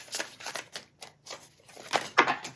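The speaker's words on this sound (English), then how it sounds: "I'm gonna give it one more shuffle, just see if there's anything else that wants to come out" Soft papery riffling and tapping of tarot cards being shuffled in bursts, close by, with brief pauses between handfuls.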